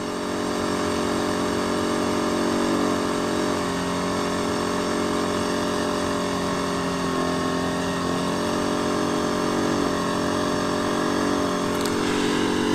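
A Denqbar DQ 1200 inverter generator runs at a steady, unbroken drone with a constant engine tone throughout, heard alone from a short distance.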